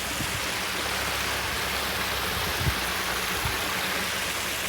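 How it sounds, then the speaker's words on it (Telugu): Flowing water rushes in a dense, unbroken wash, steady and fairly loud with no voices over it. "ఇట్లా వాటర్ ఫ్లో అవుతుంటే చాలా హ్యాపీ అనిపిస్తుంది కదా"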